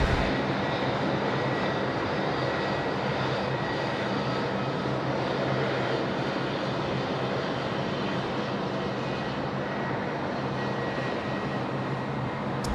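A Hawaiian Airlines plane arriving at Sydney Airport at night in heavy rain gives a steady, dense roar that holds unbroken from start to finish, with no voices.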